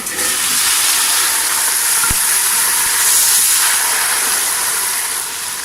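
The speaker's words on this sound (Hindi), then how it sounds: "अब हम इसमें थोड़ा सा पानी डालेंगे।" A loud, steady sizzling hiss fills the whole stretch as water is poured into a hot pan of browned garlic paste, with a brief knock partway through.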